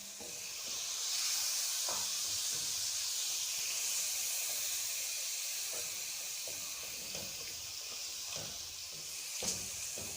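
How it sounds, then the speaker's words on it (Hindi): A splash of water sprinkled onto chicken biryani masala (coriander and garam masala powder) frying in a pan sets off a steady, loud hiss of steam and sizzle that carries on throughout, with faint stirring knocks and no talking. "थोड़ा सा छींटा पानी का लगाएंगे हम।"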